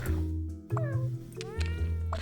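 Cartoon cat meows from the puzzle video game Cats Organized Neatly, two or three short rising mews sounding close and clear over steady game music.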